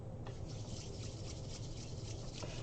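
Florida water pours in a soft, steady trickle, faint and close, with a light liquid splash running through the short stretch and no talking over it.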